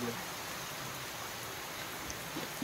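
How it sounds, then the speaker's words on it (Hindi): Steady rain falls throughout, a dense hiss with a few scattered drops tapping nearby. "बारिश हो ही रहा है"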